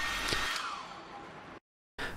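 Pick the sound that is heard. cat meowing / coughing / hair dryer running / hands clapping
hair dryer running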